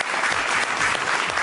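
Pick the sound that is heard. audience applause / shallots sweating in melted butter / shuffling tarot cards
audience applause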